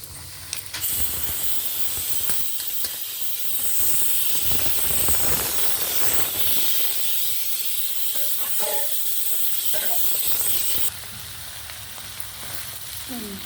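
Moong dal fries in a pan with a loud, steady hiss and sizzle that stays close and continuous, broken by faint stirring scrapes, then drops to a softer sizzle near the end.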